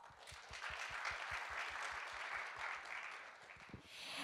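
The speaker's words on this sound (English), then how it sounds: "let's give Mr. An another big round of applause." Quiet, steady applause from a seated audience at the 2023 IPK symposium opening ceremony, continuous and evenly textured, heard from a distance with no talking.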